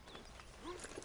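Horse hooves clip-clopping in the video game Red Dead Redemption 2, a faint, soft run of steps mixed in with other quiet game sounds.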